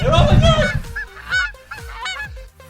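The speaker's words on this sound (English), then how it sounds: "Is that a goose? Oh, God. It's a freaking goose!" A goose honks repeatedly and loudly nearby, a series of harsh nasal calls with rhythmic pauses and no voices over them.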